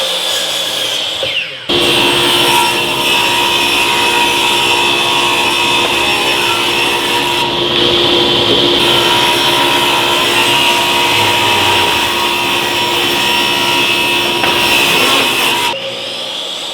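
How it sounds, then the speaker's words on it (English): A table saw and a miter saw cutting wood pieces for a pocket-hole picture frame, a loud, steady power-tool whine that starts abruptly, holds for about fourteen seconds and then stops, with no voices. "we'll make 2 of those pieces on the table saw and miter saw to those sizes"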